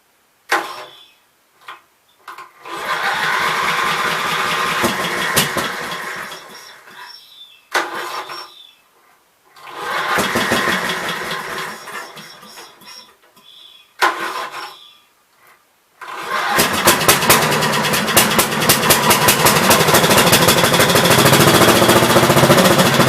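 A 16 hp cast iron Briggs & Stratton engine from a swap meet sputters through several short running bursts that cut out, then catches and holds a loud, steady, rattling run to the end.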